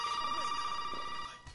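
A telephone rings in a video game, a steady electronic bell tone sustained for a moment before cutting off, fairly faint and heard alone.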